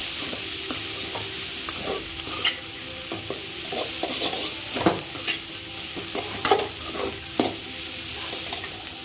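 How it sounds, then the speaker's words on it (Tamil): Broad beans and grated coconut stir-fried in a pan, a steady sizzle with repeated scraping and clacking strokes of a spatula, fairly close and alone without talk. "தேங்காய் ஆட் பண்ணிட்டு நல்லா வதக்கிக்கலாம்."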